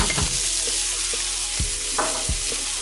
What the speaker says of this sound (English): So I'm gonna add my peppers and onions.